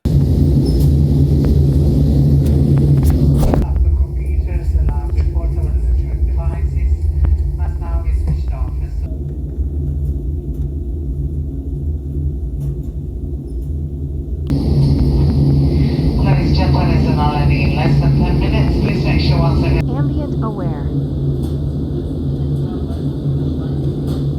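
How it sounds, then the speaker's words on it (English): A steady, loud low rumble of simulated airplane cabin noise fills the whole stretch, with brief muffled talking heard in two separate passages. "recording the simulated ambient sound of an airplane's cabin"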